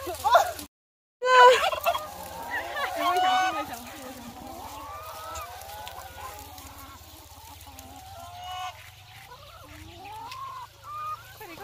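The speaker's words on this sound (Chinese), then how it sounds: "你怎么没有抓那个火鸡？" Turkeys gobble and squawk loudly while being chased in a Tsou aboriginal village on Alishan, Taiwan. The calls come in repeated bursts, mixed with people shouting and talking close by.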